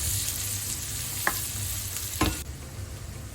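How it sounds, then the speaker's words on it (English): Onion frying in a pan for a tortellini dish, steady soft sizzle close by with two sharp stirring scrapes of a utensil against the pan, no talking. "Next I'm adding the onion and stir well"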